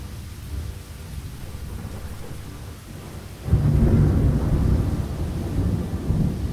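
Video game rain in Lost Horizon falls steadily with a low rumbling undertone, suddenly growing heavier and louder about halfway through, continuing as a dense downpour.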